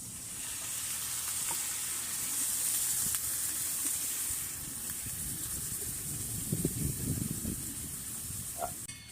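Water poured into a hot pan of fried soybeans sets off a steady hissing sizzle with soft bubbling and a few small clinks. It sounds close and moderately loud, with no talk.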